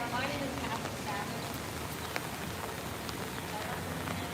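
Rain falls steadily on a walk past a war memorial where ducks rest, a dense soft hiss with a few sharper drops close by and no clear talk.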